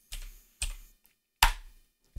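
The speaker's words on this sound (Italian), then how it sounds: "premere il tasto invio perché gli altri tasti a volte non funzionano e potremo digitare exit per uscire dalla PowerShell" Four separate sharp key presses on a computer keyboard, including an Enter key, spaced irregularly with silence between them, close and fairly quiet.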